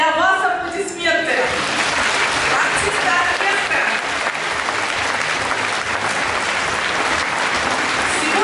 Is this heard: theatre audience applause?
yes